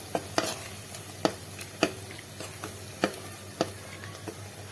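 A spoon stirs ground dates with cream and malai in a pan, giving soft scraping strokes and light taps at irregular intervals over a faint steady hiss, fairly quiet with no voices.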